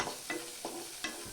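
Crushed garlic, skin still on, sizzles and crackles in hot oil for a street-style masala kara pori, steady frying with a few brief stirring scrapes.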